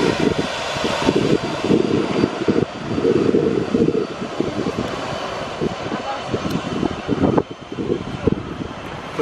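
A large China Airlines airliner roars with engine noise at Mai Khao Beach in Thailand, a loud steady rumble with gusty wind buffeting throughout and no talk.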